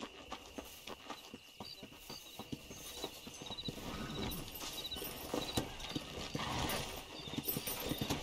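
Horse hooves clip-clop in a quick, steady gallop on a dirt trail while riding in Red Dead Redemption, the rhythmic hoofbeats close and building slightly louder over the stretch.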